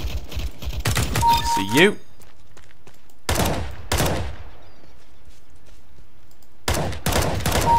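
Rapid bursts of automatic gunfire in Counter-Strike: Global Offensive, with loud close rattles separated by pauses and a final burst at the end, as a voice speaks briefly between them.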